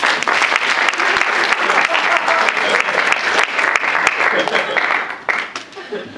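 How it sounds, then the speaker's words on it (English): Warm, sustained applause from an audience at a live sketch performance welcoming a guest speaker, dense steady clapping throughout that tapers slightly at the end. "Please welcome with a warm round of applause, Dr. Morgan Jeffries."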